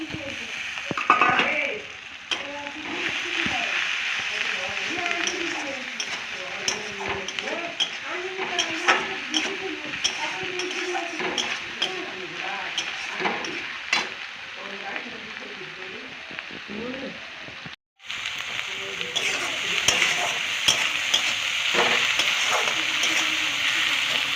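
Onion fried with tomato paste crackles in a pan under a constant, fairly loud sizzle, broken by frequent scraping strokes of a stirring spoon and one brief drop-out near the end.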